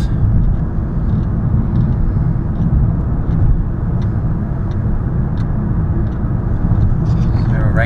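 A 2011 VW GTI with a DSG gearbox driving, heard from inside as a loud, steady engine and road rumble with someone talking over it; distinct gear shifts are not clearly audible.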